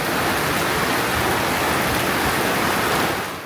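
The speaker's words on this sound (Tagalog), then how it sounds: "biglang bumuhos ang napakalakas na ulan" Heavy rain pours down steadily at a seaside spot in the countryside, a dense, loud, continuous hiss and patter with no break from start to finish.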